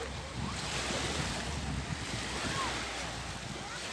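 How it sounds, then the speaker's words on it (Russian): Evening waves washing onto the shore of Lake Issyk-Kul, a steady broadband wash of surf close by, mixed with wind buffeting the microphone throughout, with faint distant voices in the background. "Ну, что-то вот под вечер опять волны"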